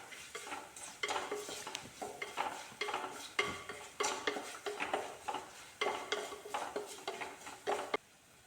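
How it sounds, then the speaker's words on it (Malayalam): Raw mango masala with turmeric powder is sautéed in a pan, a spatula scraping in steady rhythmic strokes over a soft sizzle for several seconds, close and moderately quiet. "മഞ്ഞൾപ്പൊടിയുടെ പച്ചച്ചവ മാറും വരെ നമുക്കിതിനെ വഴറ്റിയെടുക്കാം"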